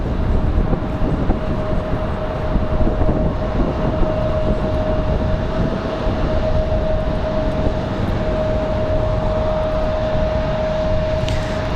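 A small general aviation plane on final approach at Raleigh-Durham International Airport on a windy day makes a loud, steady engine drone with a constant hum, blending with continuous wind roar and no pauses.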